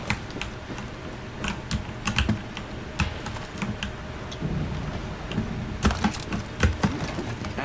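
Fast computer keyboard typing clatters close and crisp, with irregular bursts of keystrokes and brief pauses, alone over a faint low rumble in the background.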